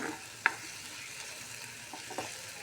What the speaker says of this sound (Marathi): मसाला मस्त परतून घेतला तेल सुटेपर्यंत